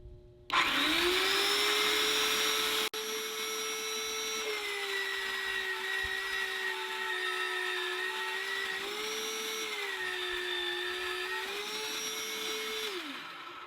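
A power drill bores into the steel of a tractor box blade lubricated with Rust Patrol, whining at a steady high pitch for about thirteen seconds, with slight dips in speed as it cuts.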